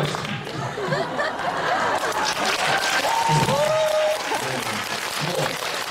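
A concert audience at a year-end winter show in Seodaemun applauds warmly for a singing duo, a thick, sustained burst of clapping mixed with laughter and crowd chatter.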